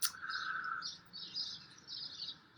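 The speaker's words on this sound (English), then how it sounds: "heard birds chirping in the background, which I'm sure you can hear too" Birds chirping outdoors on a porch: a sharp call at the start, then repeated high twittering phrases in bursts over a quiet low background, fairly close and clear, with no talking.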